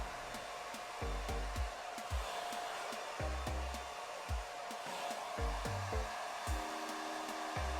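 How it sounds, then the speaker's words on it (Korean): A hair dryer blows air backward while styling a semi-leaf cut, a steady rushing whoosh broken by occasional soft low thumps and knocks close by. "드라이기를 이용해서 바람을 뒤로 주는 건데"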